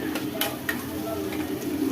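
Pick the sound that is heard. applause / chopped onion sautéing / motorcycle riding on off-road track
chopped onion sautéing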